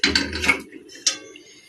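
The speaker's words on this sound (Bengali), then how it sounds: "কড়াইটা বসিয়ে দিলাম" A metal wok set down on a stove burner before frying Chhath Puja thekua: a cluster of clanks and scrapes in the first half second, then a second sharp knock about a second later, fairly close.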